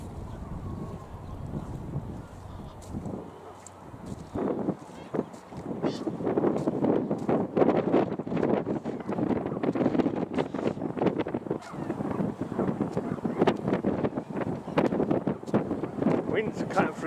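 Strong wind blows across a muddy outdoor walking path, buffeting the microphone with loud, gusty roaring that builds and stays heavy.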